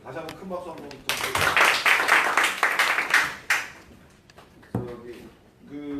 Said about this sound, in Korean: 다시 한번 큰 박수 한번 부탁드립니다.